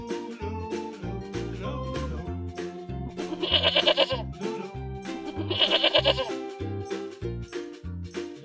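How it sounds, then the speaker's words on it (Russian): Goat bleating in a children's cartoon about farm animals: two shaky, trembling bleats spaced a couple of seconds apart, set against a cheerful music backing. "Коза."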